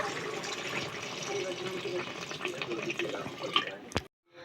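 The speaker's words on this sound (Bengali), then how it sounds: "আবারও কিছুটা জল দিয়ে দিচ্ছি" Water pours into a pressure cooker of meat biryani simmering in milk, a continuous close splashing wash that ends abruptly with a sharp knock before near silence.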